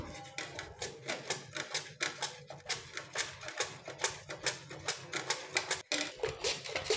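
A knife slices large peeled potatoes, soaked in water, into pieces for crispy chips, with quick, evenly spaced chops against a board repeating steadily throughout and no voices.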